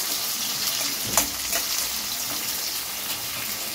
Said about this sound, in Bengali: পেঁয়াজগুলো একটু ভালো করে ভাজা ভাজা হয়ে গেছে